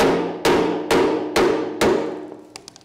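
New bolt being hammered into place: five sharp metallic knocks about half a second apart, each ringing and fading, followed by a few lighter taps, close and loud with no talking.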